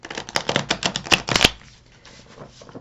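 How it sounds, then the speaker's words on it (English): A deck of oddly shaped, somewhat flimsy tarot cards is riffled and shuffled, a rapid run of crisp flapping clicks for about a second and a half, then quiet. "for as weird shape as these cards are, they shuffle really nice, but they're a little bit flimsy."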